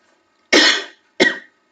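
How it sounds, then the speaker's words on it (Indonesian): Two sharp coughs, close and loud, the second shorter than the first, separated by a brief silence. "Maaf, batuk."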